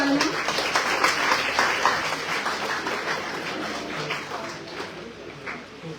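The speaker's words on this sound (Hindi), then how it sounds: "तो एक बार फिर इनके लिए जोरदार तालियां" Audience applause at a school poetry recitation competition, steady clapping from a crowd that fades slightly toward the end, with voices mixed in.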